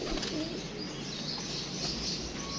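Pigeons coo steadily amid a dense, continuous wash of bird noise, with occasional wing flaps as the birds arrive one after another; no one speaks.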